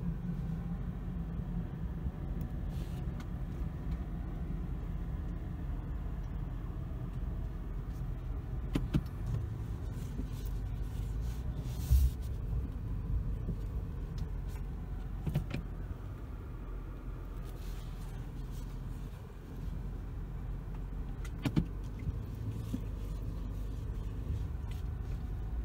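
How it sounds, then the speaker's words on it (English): A 2018 Toyota Camry engine drones low and steady from inside the moving car, with occasional soft knocks and rattles; no voices. "And begin the car's movement."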